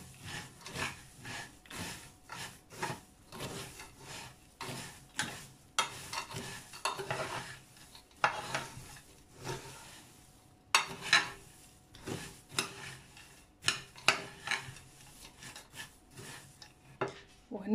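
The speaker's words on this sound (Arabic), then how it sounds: "إذن غنخلط هاد المكونات" Oats and dried fruit being stirred together in a bowl, a close series of soft scraping, rubbing strokes in an uneven rhythm, fairly quiet with no talking.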